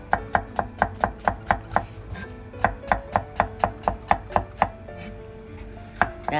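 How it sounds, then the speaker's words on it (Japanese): Cucumber thinly sliced with a knife on a cutting board, a fast even run of crisp sharp knocks, close and clear, pausing briefly once before resuming, with no speech. "きゅうりをね、薄切りするよ"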